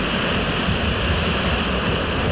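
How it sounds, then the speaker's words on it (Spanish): Strong ocean waves break heavily against the shore at Santa María beach, surging over the seafront promenade in a dense, continuous roar of surf with no voices. "las olas rompen con fuerza y terminan inundando parte del malecón"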